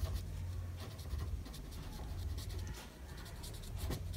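Marker or chalk strokes scratch across a board during an accounting lecture, a series of short, faint scraping strokes with soft low background hum and no speech.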